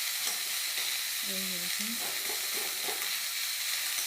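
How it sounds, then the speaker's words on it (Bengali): Onion fries and sizzles in a pan, a steady hiss with a few scraping strokes of stirring, moderately loud and close, while a person speaks briefly. "নেড়ে নেড়ে একদম বারবার একটু পরপর নাড়বো, এটা খুব ভালো লাগবে। একদম শুকনো করবো"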